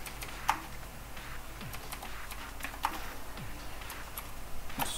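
Someone types a message on a computer keyboard, a quiet stretch of soft, irregular clicks and key taps, with a few sharper keystrokes standing out.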